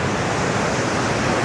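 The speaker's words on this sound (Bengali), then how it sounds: "ঝর্ণার সৃষ্টি করেছে এবং শো শো একটা সাউন্ড হচ্ছে সবসময়" A small mountain river spills over a waterfall near a hill village in Sittong, Darjeeling, giving a steady, close, full rushing roar with no voices.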